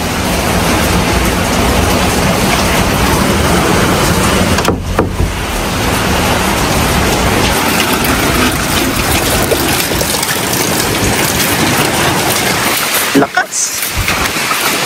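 Typhoon Uwan lashing a house with wind and heavy rain: a loud, continuous roar of downpour and gusts, with a couple of brief dips in the rush.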